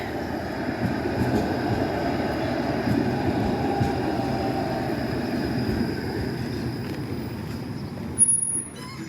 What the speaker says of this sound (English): There goes the Kingston Road streetcar to Victoria Park.